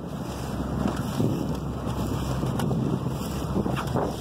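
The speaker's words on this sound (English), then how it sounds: "When you get the old Zodiac going, it gets a little choppy." A 16-foot Zodiac boat motors across choppy open water in steady, close engine drone, with heavy wind buffeting the microphone and the splash of waves mixed in throughout.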